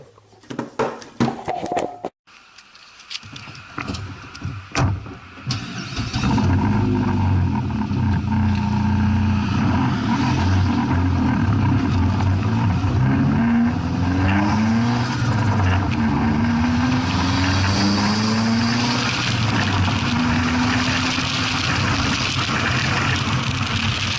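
Car engine and road noise recorded from a camera mounted on the vehicle, a steady loud drone with shifting engine tones rising and falling through gear changes, preceded by a few seconds of handling knocks and rustle.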